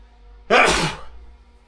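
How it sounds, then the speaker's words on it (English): A single close, sharp sneeze bursts out indoors in a dusty home office, then fades into quiet room hum. "And I'm going to sneeze."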